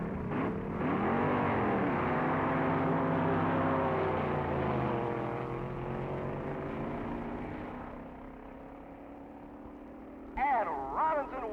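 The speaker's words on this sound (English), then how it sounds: "Pete's up to the line now, winding up that Chevy mill" A Chevy-powered AA dragster engine winds up and races at the 1961 U.S. Nationals drag races, a loud, sustained roar with rising pitch that fades into the distance, with an announcer talking over it.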